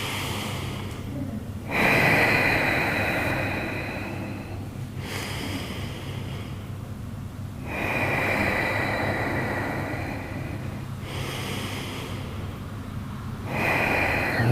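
Heavy, rhythmic breathing during a yoga hip-lift exercise: long, close exhales come about every three seconds, with quieter pauses between them and no talking.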